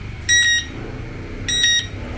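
An LPG gas leak detector alarm goes off in two separate bursts of steady electronic tones, each lasting about a third of a second, sounding moderately loud over a low background hum.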